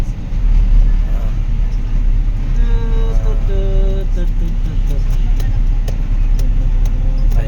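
Car driving and turning on a village road, a steady loud engine and road rumble from inside the vehicle, with a voice speaking and light rattling over it.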